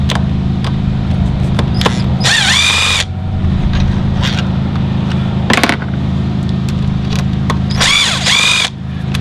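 A power tool on a VW GTI engine buzzes in short whining bursts as it removes bolts, loud and close, over a steady low hum from a carpet cleaner running in the background.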